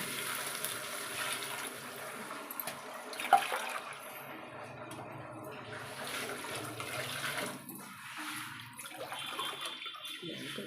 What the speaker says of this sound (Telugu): 2 గ్లాసులు బియ్యం తీసుకున్నాను కదా, 3 గ్లాసెస్ వాటర్ వేస్తున్నా.